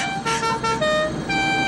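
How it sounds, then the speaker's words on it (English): A car horn sounds in a cartoon movie scene, several short honks and a longer blast, loud and clear against a quiet background with no talk. "we hear a car horn in the background"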